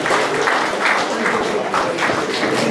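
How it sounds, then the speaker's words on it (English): A school audience at a student sports player draft claps in a steady, dense burst of applause that fills a hall, loud and close with a faint murmur of crowd noise. "Let's give him a round of applause"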